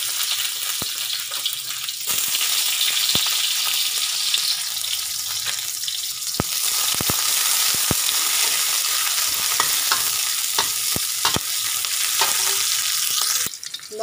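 Garlic and onion fry in hot oil in a pan, giving a constant bright sizzle broken by sharp scraping and stirring clicks, close and loud with no talk.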